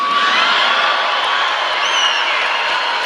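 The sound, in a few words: rally crowd cheering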